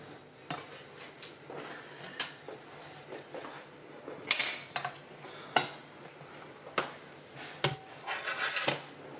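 A pan clanks on the stove as butter goes in for cooking filet mignon, with quiet, scattered metallic knocks and clinks and a faint kitchen background.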